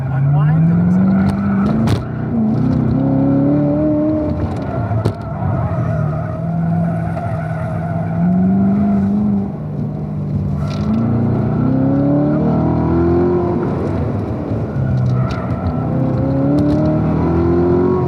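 On a driving school track, a car engine revs hard and climbs through the gears with repeated rising whines and tire noise. It stays loud and close throughout, with occasional voices over it.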